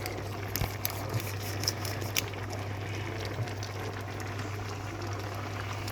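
A pot of curry leaves and vegetables boiling on the stove during home cooking, with a steady low bubbling and faint popping patter running throughout, no voices.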